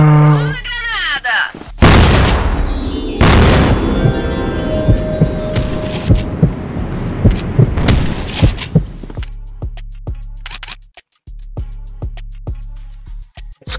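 A grenade goes off in the shooter CrossFire, a loud blast followed by scattered gunfire and sharp pops. Voices are heard at the start, and rapid shots crackle toward the end.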